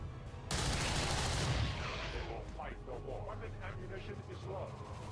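Gunfire in the turn-based strategy game XCOM 2: War of the Chosen, a single loud burst of shooting that dies away into trailing echoes, with someone talking afterwards.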